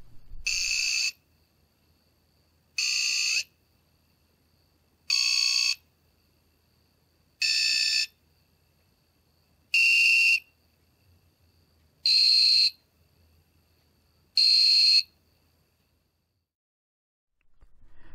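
A tone burst generator putting out seven evenly spaced, loud electronic tone bursts roughly every two and a half seconds, each about a second long and separated by silence, with no voices.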